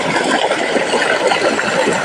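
A solar open-well pump motor rated to lift 60 feet pushes water out of a 4-inch delivery pipe from a well running low. The water gushes in a steady, loud, broadband rush with no break.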